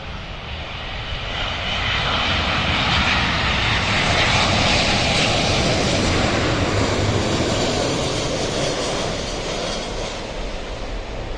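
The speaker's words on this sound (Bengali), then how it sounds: "এই বিমানটি মদিনা থেকে 5 ঘন্টা 35 মিনিট পথ উড়ে ঢাকায় অবতরণের জন্য" A Saudi Airlines airliner on final approach to land at Dhaka, arriving from Medina, roars steadily and loudly as it passes, a sustained broadband jet engine rumble that swells and holds throughout with no talk.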